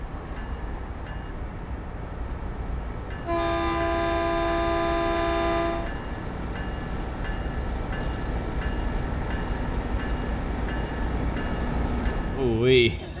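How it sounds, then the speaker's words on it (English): A Caltrain Baby Bullet locomotive horn in the Train Sim World 2020 game blasts loud and steady for a couple of seconds, then cuts off, leaving the rumble of the rolling train, with a short squeal near the end. "That horn sounds amazing"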